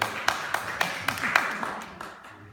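Audience at election hustings cheering and applauding, a wash of scattered claps with sharp individual slaps over a steady crowd roar that gradually fades out, with no talking.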